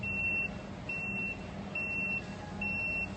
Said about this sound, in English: And the beeping also is very annoying, which makes the pilot more aware of the obstacle.